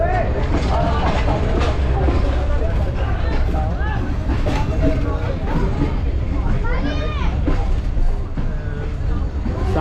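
The 41 Up Karakoram Express pulls out of Karachi Cantt railway station on the Karachi–Lahore route, with a steady low rumble and clattering wheels under busy station chatter and voices throughout.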